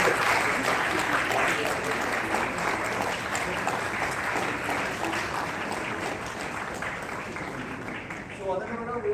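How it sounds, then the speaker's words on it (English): Audience at a national oratory contest applauding, a dense sustained wash of clapping that slowly tapers, with a voice speaking at the very end. "Let's have a round of applause for all the faculty mentors and the groups, Group B and Group C."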